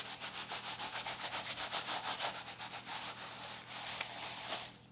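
A piece of wool rubs back and forth over a leather project to lift off excess finish, making a close, dry scrubbing sound in quick regular strokes that slow and soften toward the end.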